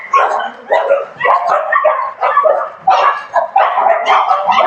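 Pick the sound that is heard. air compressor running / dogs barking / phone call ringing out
dogs barking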